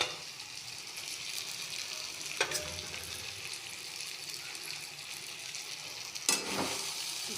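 Cauliflower korma sizzles and fries steadily in a pan, a soft continuous crackle with two brief louder bursts as the mixture is stirred or shifted.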